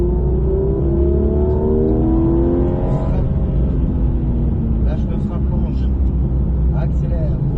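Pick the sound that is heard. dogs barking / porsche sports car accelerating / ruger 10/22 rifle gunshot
porsche sports car accelerating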